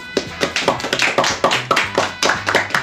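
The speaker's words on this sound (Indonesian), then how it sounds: "Sebenarnya boleh tepuk tangan dulu dong." Rhythmic clapping by a small group in a podcast studio: about ten sharp, evenly spaced claps over a steady low hum, close and fairly loud, with no talking.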